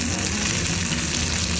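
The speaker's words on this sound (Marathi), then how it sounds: "टोमॅटो टाकून छान परतून घ्यायचं" Onion and tomato frying together in a pan for baingan bharta, a steady dense sizzle with faint crackle, close and continuous throughout with no voices.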